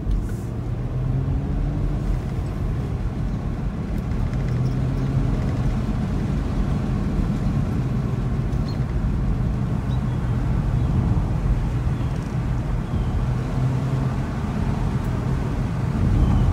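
Nissan sports car engine droning low and steady while driving on a winding road, a continuous close rumble with road and tire noise beneath, no one speaking.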